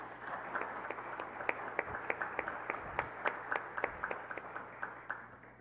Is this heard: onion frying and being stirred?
no